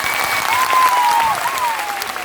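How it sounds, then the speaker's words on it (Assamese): A crowd at a gathering breaks into steady, full applause, loud and close, with a voice sounding briefly through the clapping. "জিতুৰ কাৰণে এটা হাত চাপৰি"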